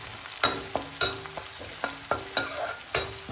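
Onion, green chili, curry leaves and dals fry in a pan for dal tadka, a soft sizzle punctuated by sharp spatula clinks and scrapes every half second or so.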